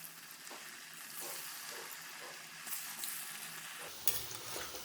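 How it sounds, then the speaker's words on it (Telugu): Baby corn frying in hot oil in a kadai gives a steady, close crackling sizzle with stirring scrapes, a louder bubbling burst near the end; nobody speaks. "కడాయి తీసుకుని అందులో ఆయిల్ వేసుకొని హీట్ అయ్యాక ఇవి అందులో వేసుకోండి, ఫ్రై చేసుకోండి."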